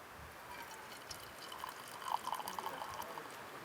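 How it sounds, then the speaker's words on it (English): Boiling water poured from a camping pot into a stainless steel cup at a lakeside campground, a faint, close trickle that swells midway and then continues steadily. "Pour me some water."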